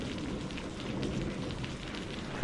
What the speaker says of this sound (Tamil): என்ன மழை பெஞ்சிட்டு இருக்கு?